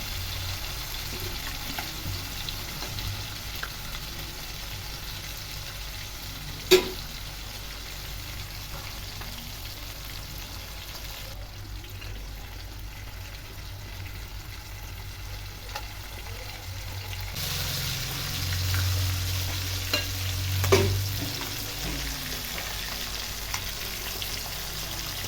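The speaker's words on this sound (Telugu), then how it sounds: "ఒక 10 to 15 minutes ఫ్రై అవ్వాలి." Fish frying in a pan on the stove, a steady close crackling sizzle that runs throughout, with a couple of brief clinks and a slight swell in the later part.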